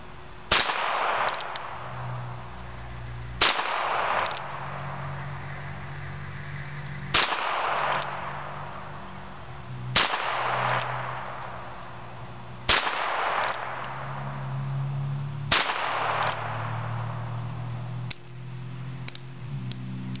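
Six loud Bearcat revolver shots fired for accuracy at a target, spaced about three seconds apart, each a sharp crack followed by a rumbling outdoor decay.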